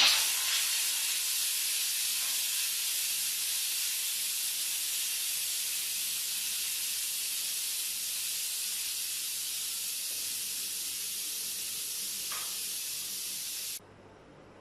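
Steam hisses loudly and steadily from a pressure cooker after its weight is lifted, a continuous close rushing jet that tapers slightly before cutting off abruptly near the end.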